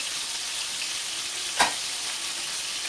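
Onions, garlic, red pepper powder and tomato paste sizzle steadily in a frying pan, a continuous close bright crackle with one brief louder pop midway and no voices.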